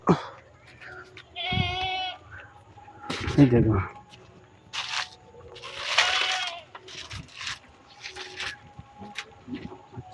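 Goats on a Black Bengal goat farm bleat close by, with one strong bleat and a few fainter calls mixed with rustling, while people talk nearby.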